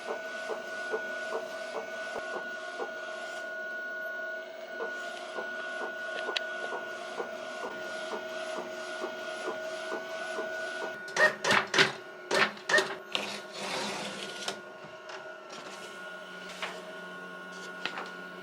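A home printer prints a design for an apron, giving a steady mechanical whir with rhythmic ticking passes, then a burst of louder clunks and paper-feed clatter near the end, close and fairly quiet, with no talking.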